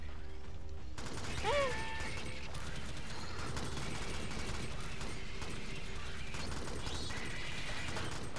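Weapon reloading in the video game Alien Swarm: a sharp mechanical clack and ratcheting click up front, then a busy wash of gunfire and machinery continuing loudly behind it.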